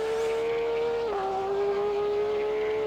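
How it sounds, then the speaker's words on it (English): Porsche race car engine in the Assetto Corsa racing game, a loud sustained high-revving drone that drops pitch briefly at a gear change, then holds steady, heard alone and close. "there's no denying the sound of that Porsche."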